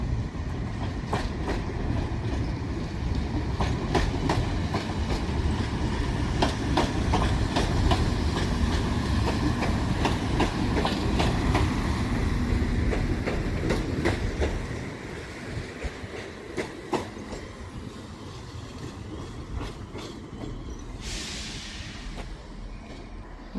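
A Class 196 passenger train bound for Holyhead rolls through Crewe station on the West Coast Main Line, a loud rumble with rhythmic clickety-clack wheel beats that eases after about fifteen seconds, then a brief high hiss near the end.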